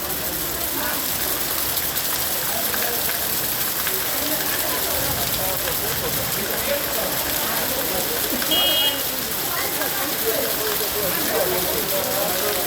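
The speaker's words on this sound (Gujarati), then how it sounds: "વરસાદની ગતિ પણ અત્યારે તીવ્ર છે જે આપ જોઈ રહ્યા છો" Heavy rain pours down steadily in Wankaner, a dense continuous hiss of drops hitting surfaces and water, loud and unbroken throughout, with a brief faint tonal sound partway through.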